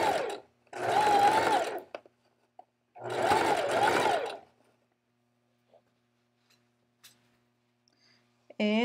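A home sewing machine that is acting up runs in two loud bursts of stitching, each about a second and a half long, separated by a short pause, then stops, leaving near silence with a few faint clicks.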